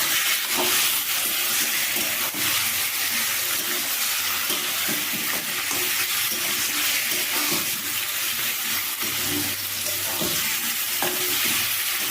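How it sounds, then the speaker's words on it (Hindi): Marinated mutton and onions frying and being stirred in a pan for a Bengali-style aloo mutton curry, with steady close sizzling and scraping stirs throughout and no talk. "सारे मटन को डाल देंगे, प्याज के साथ इसको अच्छे से मिक्स कर लेंगे।"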